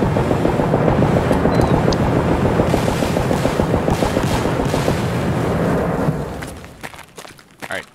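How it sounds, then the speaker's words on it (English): Sustained heavy gunfire and booming explosions from an Escape From Tarkov raid on Reserve, with a grenade launcher firing from the dome area; a loud, dense barrage for about six seconds, then fading to scattered shots. "That was the grenade launcher on top of the dome area."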